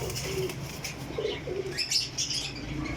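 Pigeons cooing softly in short low calls at a pigeon dealer in Sarai Alamgir, Pakistan, with light chirps and a brief flutter of wings, no talking.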